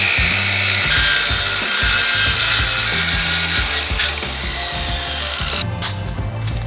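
Wood being cut to trim a window frame during a home window replacement, a steady, loud run of close mechanical cutting with a rapid rhythmic ratcheting texture throughout, alone without talk.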